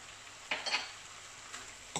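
A spoon stirs banana blossom curry frying in a pan, giving a couple of short scraping strokes over a faint, steady sizzle, close and fairly quiet, with no one talking.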